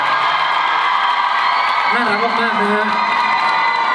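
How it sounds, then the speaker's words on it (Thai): A loud, dense crowd roar at a celebrity charity show fills the whole stretch, with shrill screams and whoops rising above a steady wash of noise. "ขอเสียงกรี๊ดดังๆแล้ว ก็เสียงปรบมือนะครับ"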